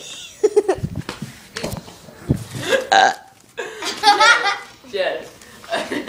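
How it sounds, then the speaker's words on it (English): A burp in a lively indoor scene during a card-house game with children, with laughter and chatter from several kids around it; the burp is brief and close, mixed in with voices. "Oops. I burped."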